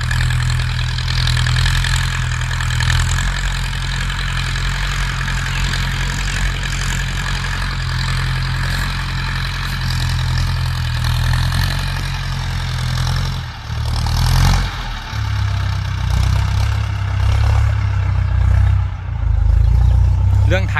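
Four-cylinder engine of a Ford 6610 tractor plowing a sugarcane field, a loud steady low diesel drone that dips briefly near the middle and then resumes strongly, with someone talking over it at times.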